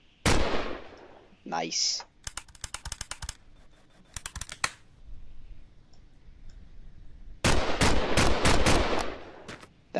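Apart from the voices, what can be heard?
revolver gunshots in the video game The Long Drive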